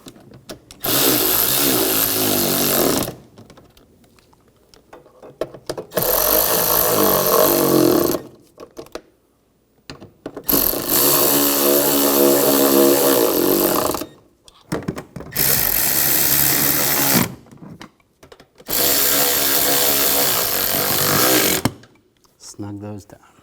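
Power tool tightening the nuts on a front strut assembly of a 2007-2013 BMW X5, loud whirring bursts of a few seconds each, five in a row separated by short pauses, with speech in between.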